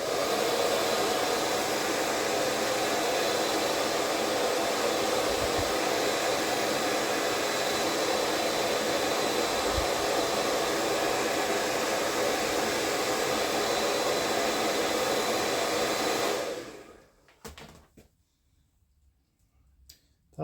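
A hair dryer or heat gun blows a loud, steady whoosh while warming the ball joint of a NECA The Thing action figure, running about seventeen seconds before switching off, leaving faint handling clicks.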